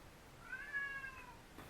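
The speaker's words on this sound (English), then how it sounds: "my cat" A pet cat gives a single soft meow with a rising then falling pitch, quiet and alone against faint room noise.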